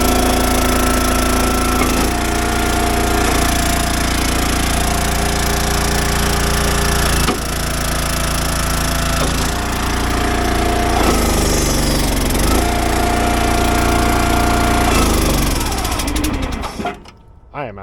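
Gas engine of an Eastonmade 12-22 log splitter running steadily, loud and close, with a constant drone and shifting tones as the hydraulics work, sputtering and dying out at the very end.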